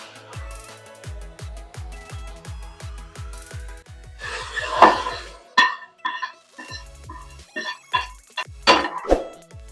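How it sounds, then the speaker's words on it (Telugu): Spices tempering in hot ghee for a bottle gourd dal: garlic, curry leaves, dried chillies and asafoetida hitting the fat, a loud sizzling crackle burst in the middle, with utensil clatter and rhythmic tapping around it. "తాలింపు చేస్తున్నాను"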